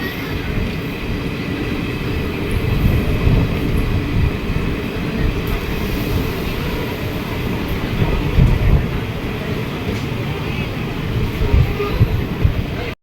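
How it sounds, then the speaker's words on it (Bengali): Maa Tara Express passenger train running near Shantiniketan, a steady loud rumble of wheels and carriage noise throughout, with faint rattling and occasional surges, heard from inside or beside the moving train. "ট্রেন এখানে প্রায় কুড়ি মিনিটের উপর লেট করে এসে পৌঁছালো"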